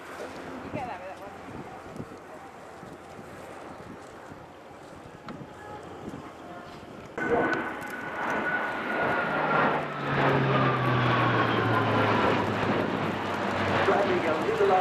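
A very heavy propeller cargo aircraft roars overhead at the Royal International Air Tattoo airshow, its engine drone swelling suddenly and holding loud, with wind noise and faint talk in the background.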